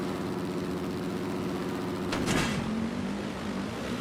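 Motocross bike engines droning steadily in the MX vs ATV Legends video game at the High Point National track, a sustained buzzing hum with a brief rising swell and shift partway through.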